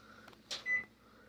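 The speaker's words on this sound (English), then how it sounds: "There's the microwave again." A kitchen microwave oven sounds short electronic beeps, a brief tone followed by a longer steady one, fairly close in a quiet room.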